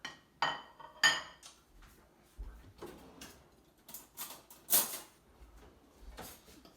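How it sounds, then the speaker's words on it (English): Flour, salt, sugar and baking powder are mixed in a bowl for bannock, with a scattered series of light clinks, taps and scrapes from a utensil against the bowl. "Mix our dry ingredients."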